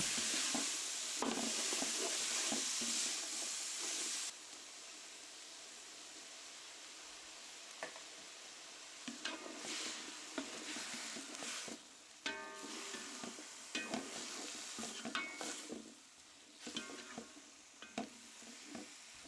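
Christophine, celery and mushrooms are stir-fried in a pan with steady sizzling and repeated scraping stirs, close and fairly loud, with no one talking.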